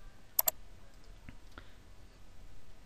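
Two quick mouse clicks close together, near and crisp, followed by a few fainter clicks and ticks over low room hiss while editing a portrait in Photoshop.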